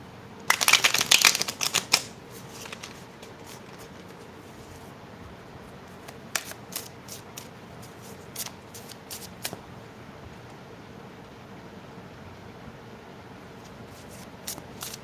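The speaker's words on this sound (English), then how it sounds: "just gonna shuffle up my cards" Quick riffling and snapping of a deck of tarot cards being shuffled close by, a dense burst at first, then scattered softer card flicks and taps.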